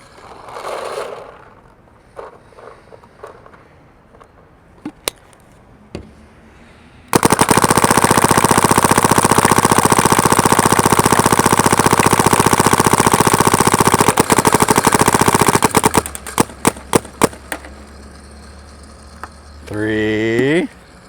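SP Shocker XLS paintball gun firing on a field, a few scattered shots, then a long rapid, continuous burst of loud, close shots that breaks into sputtering single pops.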